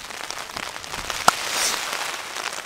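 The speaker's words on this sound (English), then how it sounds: "It's pouring down." Heavy rain pours onto a Hilleberg Soulo tent in the mountains on a stormy evening, a dense, steady hiss of drops drumming close on the fabric with one sharper tap, no voices.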